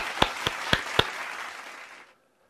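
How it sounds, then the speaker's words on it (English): A canned applause sound effect plays on a talk show: a burst of crowd clapping with a few sharp, prominent claps near the start, sustaining briefly before cutting off abruptly into silence. "give me the applause on that"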